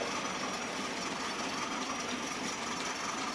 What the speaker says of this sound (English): a nice panoramic view of the Class 20 pulling the crane round